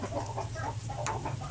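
Native Basilan chickens at a breeding farm, several hens and roosters clucking in short overlapping bursts, moderately close with a steady farmyard background and no talk.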